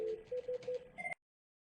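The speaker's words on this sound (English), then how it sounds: "in fact it is ringing to his home line" A telephone rings through on a home line reached via a Cisco CUCM Mobile Connect setup: a short run of evenly spaced electronic tone pulses, then a brief higher two-tone burst that cuts off abruptly into silence.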